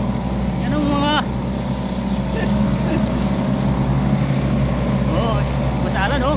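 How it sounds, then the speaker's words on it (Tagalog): A motorboat drones steadily on the water at a fishing spot, its low engine hum continuous and fairly loud throughout, with voices calling out over it. "ganda ng bangka niya"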